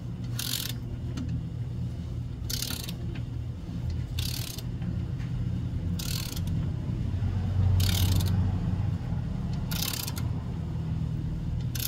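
Ratchet and socket tightening a ball joint bolt on an off-road suspension rebuild, producing short bursts of clicking at a steady interval of about two seconds over a low, constant background hum.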